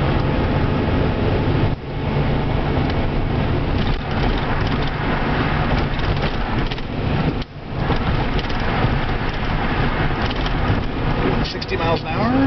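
Electric car fitted with a newly rebuilt motor cruising at 60 mph in fourth gear, with a steady, loud road and drivetrain rumble filling the cabin while someone talks over it.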